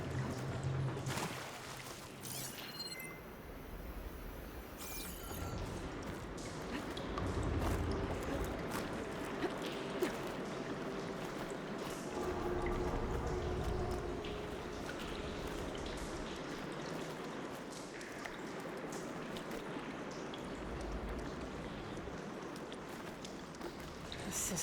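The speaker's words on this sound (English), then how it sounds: "Get that water circulating." Water flows and gurgles through pipes in the video game Horizon Forbidden West, a low rushing stream with intermittent pours and clanks, quiet and continuous with a few surges.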